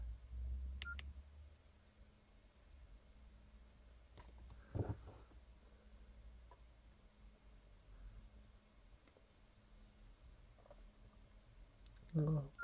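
Keypad presses with short beeps on an old Nokia 6630 phone as an app is launched, a few brief tones scattered across a quiet background, loudest near the end.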